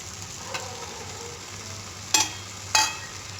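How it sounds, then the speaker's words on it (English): Stuffed potatoes are stirred into curry gravy sizzling in a pan, a steady close frying hiss broken by two sharp scraping clacks of the spoon, no talking. "And we will stir them well."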